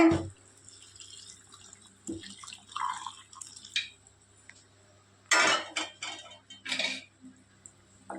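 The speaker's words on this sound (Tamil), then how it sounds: "நான் சுடு தண்ணி தானுங்க காய வச்சுருக்குறேன் அதை இப்போ சேர்த்திக்கலாங்க" Hot water being added to rice in a pot for a country chicken dish, with scattered clinks of metal utensils and vessels, short splashes and pouring bursts between quiet gaps.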